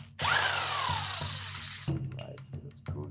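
A power tool spins loose the 8mm screws of the starter on a Kawasaki KLX230R motorcycle engine being disassembled: one loud, close whir winding down for about two seconds, then short clicks and metallic handling sounds.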